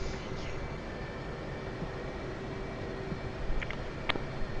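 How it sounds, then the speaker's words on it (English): A jet aircraft taxis toward the runway in a DCS World flight simulation, its engines giving a steady, broad rumbling roar with a faint whine, constant and close, with no talk. "we'll taxi down to the active and get airborne"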